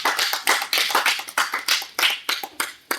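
A church congregation at a Sunday service applauds together, a lively run of fairly close, rhythmic hand claps that swell and ease in waves with no talk over them.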